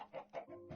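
Two or three quick soft clucks from a diamond chicken in Minecraft Bedrock, faint and close, alone with no talk.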